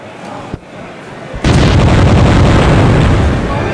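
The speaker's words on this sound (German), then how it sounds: "wie kriegt ihr diesen tollen Spezialeffekt mit dem Explodieren immer hin?" A loud explosion special effect from the LucasArts CD-ROM game Rebel Assault, with a brief thud and a pop, then a sudden massive blast that roars on with a sustained, rumbling wall of noise.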